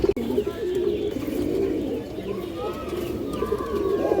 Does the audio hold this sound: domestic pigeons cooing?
yes